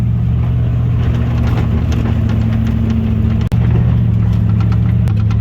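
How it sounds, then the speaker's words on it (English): A car drives along forest roads between Atlanta and Featherville during the Gambler 500 Idaho off-road rally, its engine a steady, close droning hum throughout, with one brief dropout midway. "We're driving through the forest"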